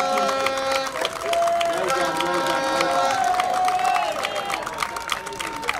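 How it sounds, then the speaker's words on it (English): A crowd at a live KHU Masters Series event applauds and cheers for a team's performance, dense clapping mixed with loud whoops and shouted voices, sustained and lively throughout. "round of applause for Blue Ocean Team"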